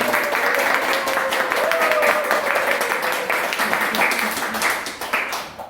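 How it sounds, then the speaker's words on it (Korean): An audience on a health talk show claps to welcome a guest, a sustained ripple of many hands with distinct sharp claps and a brief voice under it, tapering off at the end. "그럼 주만여님께 환영의 박수 한번 드릴게요."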